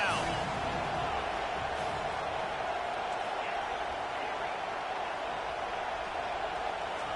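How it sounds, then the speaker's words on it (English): Football stadium crowd roaring steadily for the defense on third down, a loud continuous wash of cheering from a large distant crowd with a commentator talking over it. "Decibels rising as the crowd gets behind this defense on third down."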